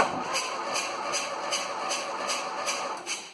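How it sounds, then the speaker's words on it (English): A Cub Cadet 1882 lawn tractor engine runs steadily nearby with a rhythmic puffing tick repeating several times a second from a major exhaust leak; no talking. "you guys have a major exhaust leak"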